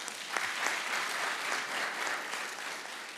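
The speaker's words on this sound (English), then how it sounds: "let us give them a round of applause" Audience applause after presentations at the EAZ Youth Conference 2021: a steady, dense wash of many hands clapping together, sustained at even strength throughout with no voices breaking through.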